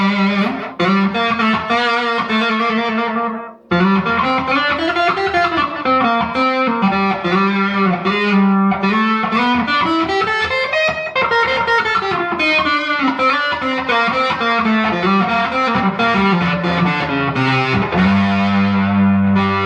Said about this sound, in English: this is what distortion sounds like on the bridge pickup